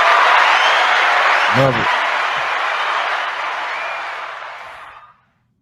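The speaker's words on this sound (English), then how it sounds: "we can't hear them if y'all keep clapping" Dense applause from a studio audience fills the room nearly continuously, fading out toward the end, with a brief spoken remark breaking through near the middle.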